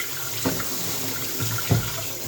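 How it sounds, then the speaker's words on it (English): Cold tap water runs steadily into a pan to rinse rice, a continuous close hiss of flow with two brief splashy bumps as the grains and pan shift. "Some cold water, rinse it."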